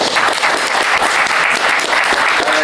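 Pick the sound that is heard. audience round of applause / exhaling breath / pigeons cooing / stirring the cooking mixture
audience round of applause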